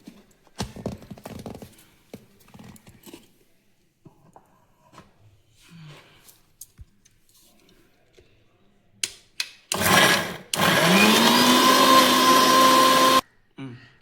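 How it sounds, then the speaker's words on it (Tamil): After some clattering and handling noises, a mixer grinder grinding onion, tomato, peanut, coconut and sessile joyweed chutney whirs loudly for a few seconds, then stops abruptly. "இப்போ அரைக்கலாம்."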